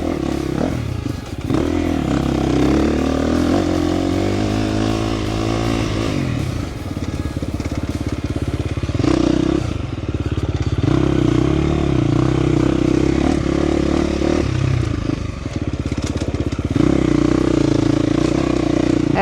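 A 2025 KTM 350 XCF dirt bike ridden offroad on dry, slick Texas terrain, its engine loud and close, revving up and down through gears with rhythmic surges, brief dips and clattering chassis noise.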